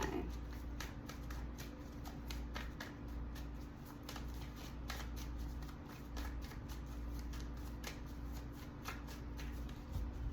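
Tarot cards are shuffled by hand in a steady run of soft riffling flicks and slaps, close and quiet, with a low hum in the background.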